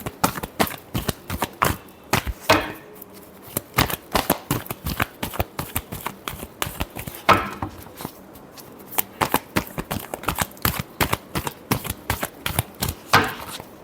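Tarot cards shuffled by hand in quick rapid riffles and taps, crisp, close and loud, repeating in bursts with short pauses, no talking.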